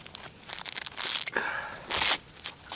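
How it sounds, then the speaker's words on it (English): Strong Velcro closure on an insulated neoprene snowshoe gaiter ripped open in short crackling tearing bursts, close and fairly loud, no voices. "Strong Velcro closure."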